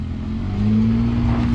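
A stock Chevrolet Colorado ZR2 pickup truck revs hard while climbing a muddy hill, its engine rising to a loud, steady, close-up drone with no voices.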